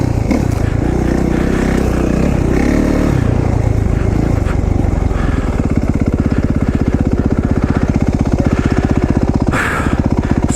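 An off-road dirt bike engine roars close and loud, rising and falling through revs before settling into a fast, steady pulsing drone.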